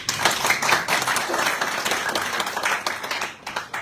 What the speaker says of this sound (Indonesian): Untuk itu kami minta untuk tepuk tangan